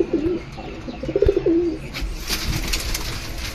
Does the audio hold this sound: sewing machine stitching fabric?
no